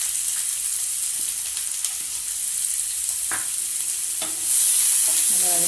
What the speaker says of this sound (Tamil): நல்லா வதக்குங்க. வெங்காயம் நல்லா வதங்கட்டும்.